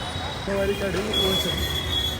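A Delhi metro train rolls past with a steady rail rumble and a thin high wheel whine, sitting under ongoing voices and street noise from a traffic-jammed road.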